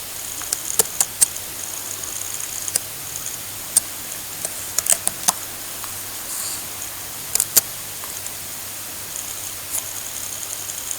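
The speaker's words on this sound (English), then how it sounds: "When it pops up, you need to type in what's requested." Irregular clicks and taps of typing on a computer keyboard, sparse and close, with quiet pauses between bursts of keystrokes and no talking.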